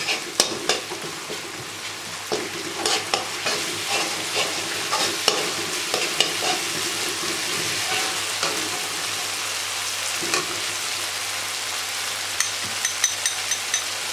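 Chicken liver frying with tomato and ginger garlic paste as it is stirred: a continuous close sizzle broken by frequent scraping clicks of the spoon against the pan, with no talking.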